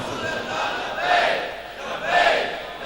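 A crowd at a religious gathering shouts a slogan in unison, two loud swelling bursts about a second apart, moderately distant, with reverberant hall ambience and no separate speech.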